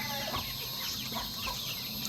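Chickens clucking on a rural farm, a steady murmur of fowl calls at moderate level with no talking.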